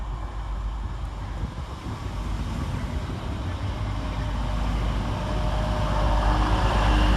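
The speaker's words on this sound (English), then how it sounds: "Rounding the corner next is 185148, working the 1427 Transpennine Express service from Redcar Central to Manchester Airport." A Transpennine Express class 185 diesel unit, 185148, rounds a curve into Thornaby station with a steady rumbling roar that slowly grows louder as it approaches.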